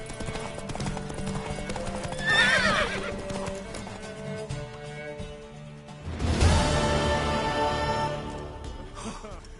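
A horse in the Witcher 3 Gwent card game whinnies twice with loud, near neighs, while hooves clip-clop beneath, set against a game music backdrop.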